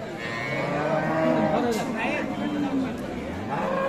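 Holstein Friesian and Sahiwal cows at a crowded rural cattle market in Nabbganj, Dinajpur, with a cow lowing in a long drawn moo close by amid men chattering and bargaining.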